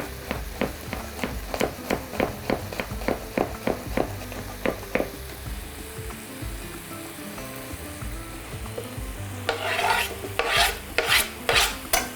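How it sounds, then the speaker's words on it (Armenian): Garlic cloves crushed under a kitchen knife blade and then finely chopped on a board: a run of quick, evenly spaced sharp knocks, a pause with faint rubbing, then a few louder scraping strokes near the end. "Դնում ենք դանակի շեղբի տակ, հարվածում ենք և մանր կտրատում"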